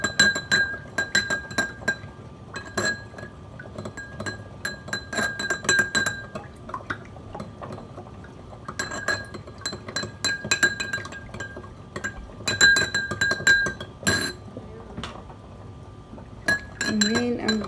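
A spoon stirring a teaspoon of salt into a glass of water, with quick bright metallic clinks against the glass in repeated bursts and short pauses, close and fairly loud, without talk.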